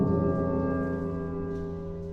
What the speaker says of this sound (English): Middle larger bell.